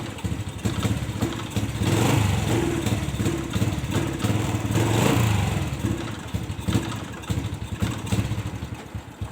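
A Honda Legenda motorcycle engine with a fault that makes it sputter and stall under throttle runs close by with a rough, sputtering idle and uneven revving, clattering steadily throughout.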